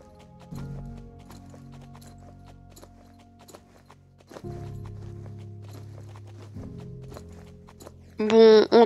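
Hooves clip-clop at a steady trot from a horse in the online horse-riding game Star Stable, with a brief neigh near the end and no talk over them.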